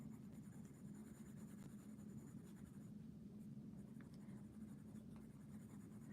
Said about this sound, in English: like me shuffling through the color pencil noise isn't too loud or annoying.